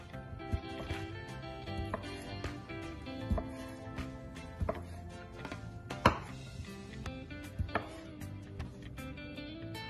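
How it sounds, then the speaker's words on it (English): Knife cutting sausage and a small onion into pieces for jambalaya, a steady series of close chopping taps on a board, with kitchen clatter in the background and no talk. "I finished cutting up all my sausage, and I cut up the little onion"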